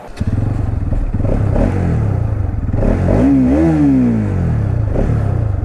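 Motorcycle engine heard close up while riding, a steady throaty drone that rises and falls in pitch as the rider revs midway, with faint road clatter underneath.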